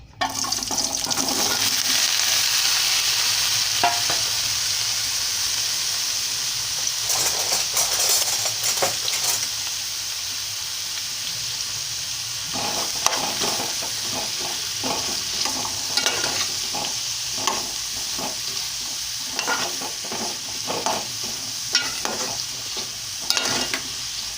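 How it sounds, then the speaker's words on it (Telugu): Pieces of bottle gourd, for a tomato curry, fry in about four tablespoons of hot oil with a steady crackling sizzle. Scraping and stirring clatters come in bursts over it, close and moderately loud, with no talk. "ఆయిల్ వేడెక్కుతూ ఉంది. ఇప్పుడు సొరకాయ ముక్కలు కట్ చేసుకున్న వేస్తున్నాను చూడండి."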